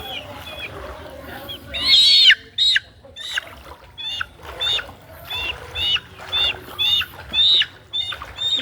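A chicken stranded in floodwater squawks in a burst of harsh, shrill cries, then a string of shorter squawks at a steady pace, close and loud, with a person talking near it.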